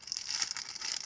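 A plastic bag holding the base of a small collectible figure crinkles continuously and close by while it is unpacked, with crisp rustling and no voices.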